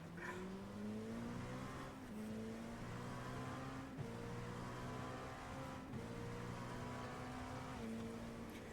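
An LMP2 prototype race car in a racing video game at Daytona screams at full throttle, its engine note rising steadily through quick upshifts roughly every two seconds, loud and continuous with no talking.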